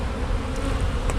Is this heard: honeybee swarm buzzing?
yes